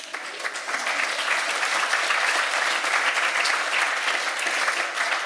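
Sustained audience applause at an evening talk on cetacean strandings, a dense, even wash of many hands clapping together, steady and unbroken throughout with no voices on top.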